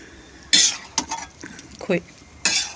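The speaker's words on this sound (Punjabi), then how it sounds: "ਤੇ ਬਸ ਕੜਛੀ ਚਲਾਈ ਜਾਣੀ ਆ" A ladle stirs gajrela carrot halwa cooked with milk instead of khoa in a pan on a new stove, with irregular scraping strokes and clinks against the metal, close and fairly loud, while a voice speaks briefly.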